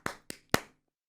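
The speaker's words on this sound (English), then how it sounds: "Here you go, you get some claps." A few hand claps from a commentator at a Canada Division 2020 Finals esports match, three sharp separate slaps in just over a second, close and fairly loud with no talk over them.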